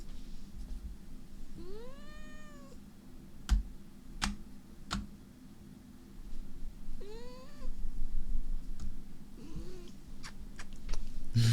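A cat gives two drawn-out rising meows a few seconds apart, plus a softer grumble, close and fairly quiet, with scattered sharp ticks and clicks in between.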